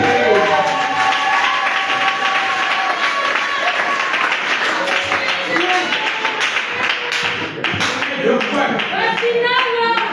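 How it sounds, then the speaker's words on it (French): Church congregation clapping loudly and steadily throughout, a dense crowd of hand claps with scattered cheers and voices mixed in, close and continuous during a Sunday sermon. "Acclamez pour vous-même."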